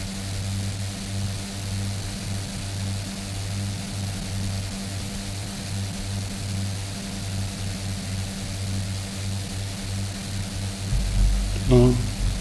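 A Red Wing F.60 Goliath airplane in Microsoft Flight Simulator 2024 drones steadily with a low, pulsing propeller engine hum, swelling slightly near the end, with a voice talking over it.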